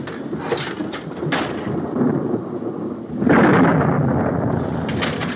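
Thunder from a lightning storm rolls and rumbles through a wartime 1940s setting, a low sustained roar that swells sharply partway through and stays loud, with no talking.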